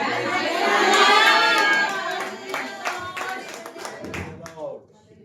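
A church congregation at a deliverance prayer meeting claps their hands together, with loud mixed shouting and cheering at first, then more scattered, rhythmic claps that fade out.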